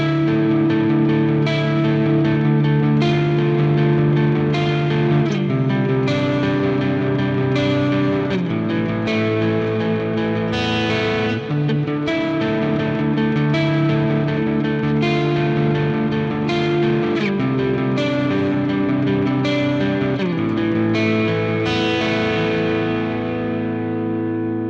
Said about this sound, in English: I've got this set up on the Glitz reverb setting.